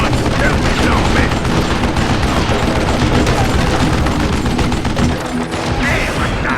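Dense, rapid gunfire in the video game Call of Juarez Gunslinger, loud and continuous with overlapping shots that ease off briefly near the end.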